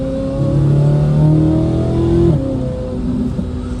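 A 2026 Corvette Z06 engine revs up loudly, pitch climbing steadily as it accelerates, then eases off near the end; close and dominant with no talking.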